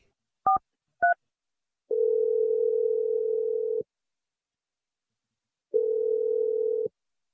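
A phone call being placed: two short keypad dial beeps followed by two long, loud steady ringback tones separated by silence.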